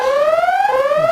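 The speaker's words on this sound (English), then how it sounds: "Set the front door alarm." A front door alarm in a horror video game wails as one steady rising electronic tone with bright harmonics, loud and continuous for the whole stretch, with no voices over it.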